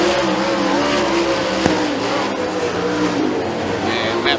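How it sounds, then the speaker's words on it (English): Race cars circle the dirt oval at Freedom Motorsports Park during heat racing, a loud continuous roar of several engines droning together, with a brief sharp crack partway through and no clear talk. "As these cars start to fan out now all across Freedom Motorsports Park"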